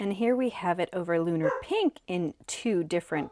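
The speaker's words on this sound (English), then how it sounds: "Sorry about my dog." A dog barks and yips in short bursts close by, mixed in with steady talking throughout.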